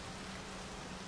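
Steady rain in the video game Rain World, a soft, even wash of noise holding at low level throughout with no voices.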